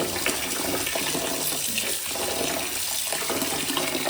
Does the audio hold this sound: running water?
yes